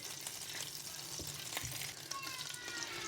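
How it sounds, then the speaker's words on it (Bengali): Skin-on chicken thigh pieces sizzle in butter in a pan with a quiet, steady fry and a few soft pops and clicks. "প্রথমেই আমি চিকেনটা ভেজে নেব বাটারে"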